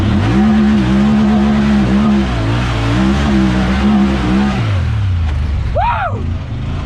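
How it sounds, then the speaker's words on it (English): A 2019 Honda Talon side-by-side engine hums at a steady high pitch, then drops off abruptly as it brakes hard and slides. A brief rising and falling squeal closes the loud, close sequence. "Slam on brakes and slide into them."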